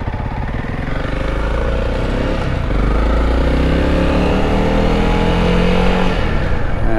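A Honda CRF300L and a Yamaha XT250 climb a muddy desert dirt trail, their engines droning loud and close with steady revving and rising pitch throughout.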